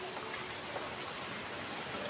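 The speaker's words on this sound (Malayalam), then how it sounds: "വെള്ളം മേളിൽ നിന്ന് വീഴുന്നതാണ് ഗൈസ്." Water falls from above into a rocky stream at a scenic spot in Muttara, Kollam, giving a steady, close, broadband rushing hiss with no break and no voices.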